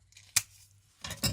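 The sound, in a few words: scissors cutting paper for dimensional paper star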